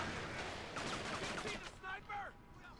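Sniper rifle fire in the game Kane & Lynch 2: Dog Days, sharp gunshot cracks amid a mix of rapid gunfire, moderately quiet in the mix, with voices talking over the shooting.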